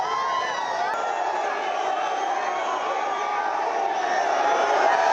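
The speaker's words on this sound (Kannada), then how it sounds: "ಕೇಸರಿಯ ಕಹಳೆ, ಜೈ ಶ್ರೀರಾಮ್ ಘೋಷಣೆ, ಮೋದಿಗೆ ಜೈಕಾರ" A dense crowd of thousands lining a roadside cheers and chants for PM Modi's visit to Udupi Sri Krishna Mutt, a continuous loud roar of voices with overlapping shouts that holds steady throughout.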